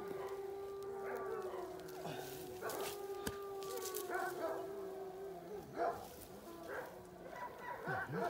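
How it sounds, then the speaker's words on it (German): Several dogs howl at a distance outside a house in Hungary, long rising and falling wails overlapping one another, fairly faint, with a few short yips. "Wie die jaulen."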